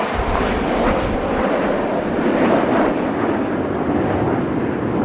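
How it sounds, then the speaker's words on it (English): An Avro Lancaster bomber flies past at a Royal International Air Tattoo display, its four piston engines making a loud, sustained droning roar that swells and fades slightly, with no talk over it. "As Lancaster flies off to our left-hand side"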